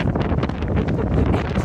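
Strong wind buffeting the microphone outdoors, a loud, continuous low rumble with gusty bursts and rustling, no talk.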